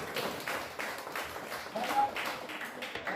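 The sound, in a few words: classroom applause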